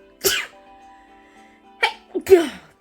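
One sudden, loud sneeze with a sharp breathy burst, a short pause, then a second explosive sneeze with a brief intake of breath before it.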